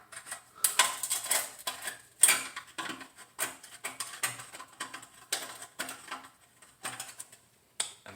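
A small Phillips screwdriver loosens a screw on a Kawasaki Z400 or Ninja 400 motorcycle exhaust, giving faint, close, irregular metallic clicks and scrapes in short bursts.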